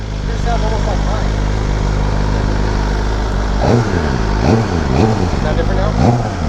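A BMW M1000RR motorcycle idles loudly up close, then gives three or four sharp throttle blips that rise and fall, with people talking over the engine.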